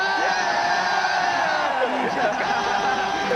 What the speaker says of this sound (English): Wait, the crowd is yelling.